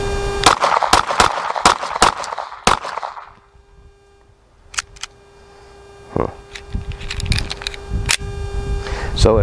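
Sharp, loud rifle shots from a G3C rifle fitted with an RMR sight and light, several in a quick burst at first, then isolated reports after a pause, with metallic handling noise and occasional talk between shots.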